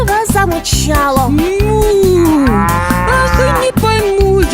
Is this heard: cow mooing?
yes